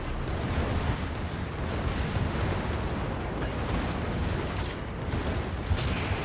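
Rapid, continuous booming of a warship's secondary guns firing in a naval battle game, a dense rolling barrage of blasts that fills the whole stretch at steady loudness with no pauses.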